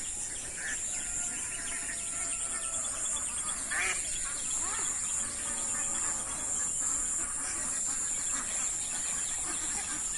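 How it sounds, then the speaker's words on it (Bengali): Several ducks quack intermittently in a quiet village setting with shallow water and boats, mixed with a steady insect or cricket hum, at moderate distance. "কতগুলো হাঁস"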